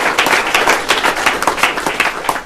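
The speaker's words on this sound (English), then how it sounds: "please give them all a warm round of applause" Close, loud clapping from an audience at a utility company press conference announcing a solar-powered data center contract, with individual claps distinct in a lively, uneven patter.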